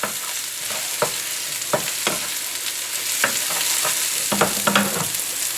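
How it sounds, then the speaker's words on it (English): A spoon stirs cooked sausage and vegetables in a hot pan, giving repeated close scraping strokes over a constant soft sizzle; no one speaks. "Just a good little stir."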